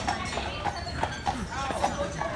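Percheron draft horses pulling a tour carriage on Mackinac Island, Michigan: steady rhythmic clip-clop of hooves on the road, close and even-paced, heard beneath a guide talking throughout.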